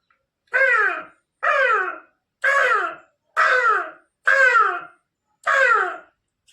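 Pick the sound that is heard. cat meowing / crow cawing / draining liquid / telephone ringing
crow cawing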